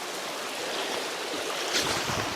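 Running water from the rapids of a rainforest stream, a steady broadband rush that holds evenly throughout with no voices.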